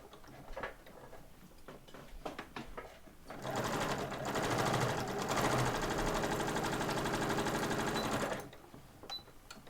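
A sewing machine runs in a rapid, even burst for about five seconds while back stitching a cross body bag, preceded and followed by quiet handling clicks and taps, close and alone.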